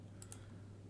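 Two quick, sharp clicks of a computer mouse pressing a solve button, close and clear over a steady low hum, with no talking.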